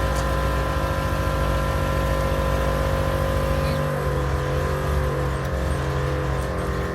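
An air-cooled VW Beetle engine idles roughly and unevenly nearby, a steady low rumble with a wavering, uneven tone that sags partway through as it struggles, barely running.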